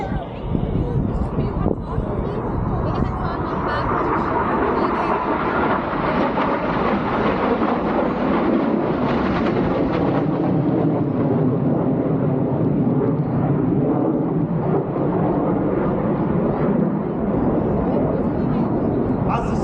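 RAF Red Arrows jets fly an opposition barrel roll at an air festival display, making a loud, continuous roar that swells and fades under an announcer's commentary and crowd noise.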